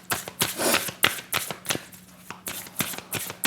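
Tarot cards are shuffled and drawn close up, a rapid series of crisp riffling snaps and slaps in an uneven rhythm, quiet, with no talk.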